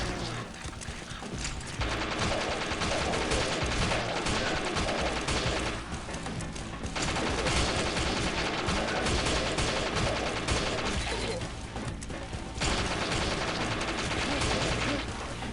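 Dense, continuous gunfire from Killing Floor fills the scene, a steady rattle of rapid shots with bullets striking walls, running loud and unbroken with brief dips in intensity.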